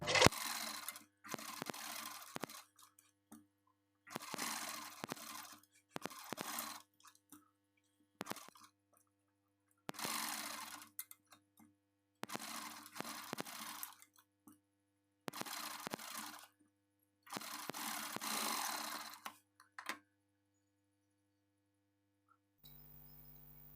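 Sewing machine stitching a sleeve design in repeated bursts of rapid mechanical whirring, each a few seconds long and separated by short pauses, fairly close and clear with no talk.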